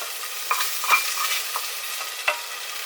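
Browned meat being stirred for a slow cooker stew, with a steady sizzle and several distinct scraping stir knocks spread across the few seconds, close and moderately loud, no talking.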